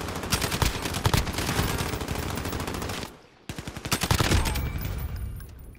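Rapid machine-gun bursts and scattered gunshots ring out loud and continuous in a Call of Duty match, broken by a short lull near the midpoint before the firing picks up again.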